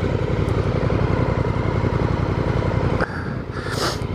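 A Honda Africa Twin motorcycle engine drones steadily while riding through open Outback country, a close, even mid-pitched hum that drops off and shifts near the end as wind rushes in.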